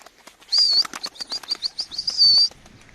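A pigeon's wings flap in a quick fluttering burst as it takes off close by, lasting about two seconds with sharp whistling wingbeats.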